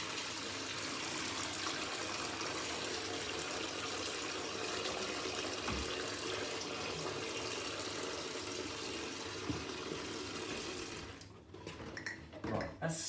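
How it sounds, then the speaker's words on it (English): Water runs steadily from a tap into a kettle with a continuous rushing splash, then cuts off near the end, leaving a few faint clatters. "so get a little bit of water in there."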